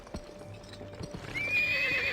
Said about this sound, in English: I had to bring my horse over.